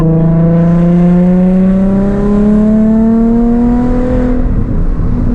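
A Nissan 350Z with a backfire tune revs in a long, steady climb, its loud droning exhaust note rising smoothly in pitch over several seconds without pause.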